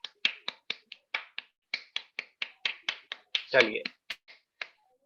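Rapid bursts of finger snapping done by a group, imitating a heavy rainstorm, with sharp repeated snaps in a steady patter and a brief louder rustling burst near the end.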